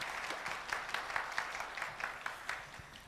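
Audience at a university fireside chat on personal transformation gives a short burst of steady applause, a warm even patter of many hands with a few distinct claps rising above it.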